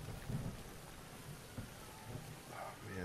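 Steady rain falling in the Zelda: Breath of the Wild video game, a soft continuous hiss with faint low rumbles like distant thunder, no talking.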